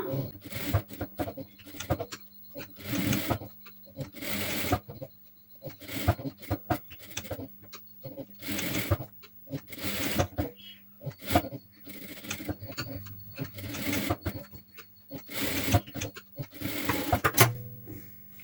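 Sewing machine stitching a blouse in a tailoring class, several close bursts of mechanical stitching separated by brief pauses and fabric handling, with a voice heard now and then between the runs.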